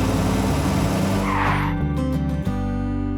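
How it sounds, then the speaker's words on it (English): Cartoon sound effect for a giant toy car rolling along: a loud, close engine roar that swells, then a screeching skid with a brief squeal before the motor hums on steadily. "Peppa and George were playing in the garden when they spotted a giant toy car rolling toward them"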